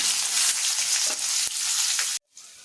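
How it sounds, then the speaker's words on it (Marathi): Cumin, mustard seeds, bay leaf and a pinch of asafoetida hit hot oil with a loud, close, bright crackling sizzle that holds steady for about two seconds, then cuts off abruptly into a faint hiss. "तेल तापलं आहे आता आपण त्यात टाकूया जिरो मोहरी तेजपान आणि थोडासा हिंग घालायचा आहे"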